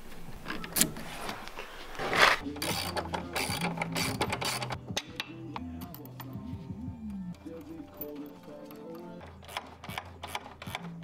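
Ratchet clicking in repeated bursts while removing the two shock bolts on a Polaris Axys RMK snowmobile, close and loud, with someone talking over parts of it.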